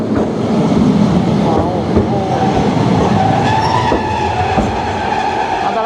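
A modern Kumamoto city tram, a 2024 type 2400 car, rolls past close by with a smooth motor hum, rising whine and light wheel rumble.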